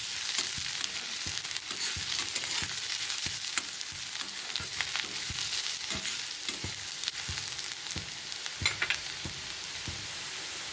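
Onion sautéing in a pan for a Solapur-style mirchu chilli relish, a steady bright sizzle with repeated sharp scraping clicks from stirring, close and continuous throughout.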